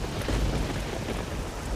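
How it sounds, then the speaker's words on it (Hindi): Heavy rain pours down steadily with deep rolling thunder underneath, a dense, continuous roar that fills the whole stretch with no voices. "बारिश है कि रुक ही नहीं रही है, कब रुकेगी?"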